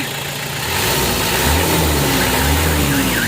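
A 2008 Mitsubishi L300 FB van engine runs close up and rises into a few surging revs over its idle, loud and steady with no voices.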